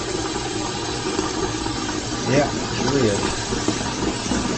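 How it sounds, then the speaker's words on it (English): Salmon patties frying in a pan, with a steady sizzle and bubbling of hot oil going on continuously while someone talks over it. "She's a bubbling away there,"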